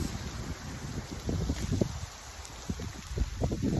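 Gusty spring wind buffets the microphone outdoors with low rumbling bursts and a constant airy hiss, rising and falling in strength throughout.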